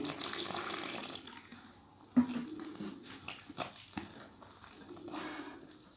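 Tap water runs in short, faint bursts over a sink while dough is being kneaded by hand, with soft splashing and a few wet thumps and crinkles between the pours.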